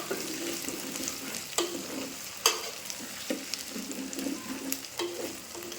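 Onions frying in a pan make a continuous moderate sizzle with several sharp utensil clicks and scrapes from stirring scattered throughout.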